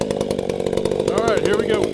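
A chainsaw idles loudly and steadily at close range before being throttled up for cutting firewood, with a warbling engine note and someone speaking over it partway through.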